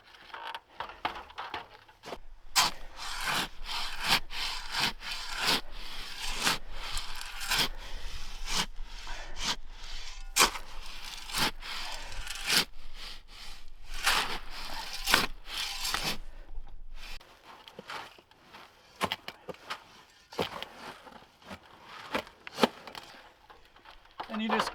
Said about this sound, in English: I'll go ahead and take a shovel and start stirring that around